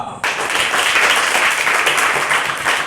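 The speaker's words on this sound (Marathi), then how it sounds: "तुम्ही तुमचं स्वतःचं कौतुक करण्यासाठी भरभरून जोरात टाळ्या वाजवा" Students in grades four to six at a coaching class applaud loudly and continuously. The dense, steady clapping starts abruptly and holds its intensity to the end, with no talk over it.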